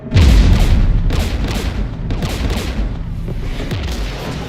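Anti-aircraft guns fire in a video game as a loud, continuous barrage of heavy booming shots. Regular thudding pulses repeat throughout, with no one talking.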